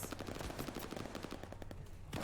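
New Year's Eve fireworks bursting outside in a dense, rapid string of crackling pops, moderately distant and steady, with no one talking.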